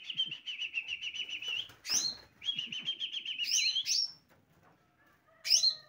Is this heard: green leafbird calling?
yes